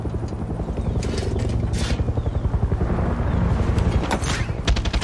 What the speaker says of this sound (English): That's not our helicopter.